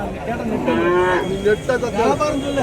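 A plough bullock at the Matrapalli cattle market lets out a long, loud, close moo that rises and wavers before tapering off, with other market sounds faint behind it.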